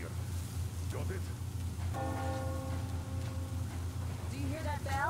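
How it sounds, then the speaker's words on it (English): A bell tolls in the video game Metro Exodus, one ringing stroke with a lingering tone at moderate distance, over a steady low engine-like drone with voices talking nearby. "Do you hear that bell?"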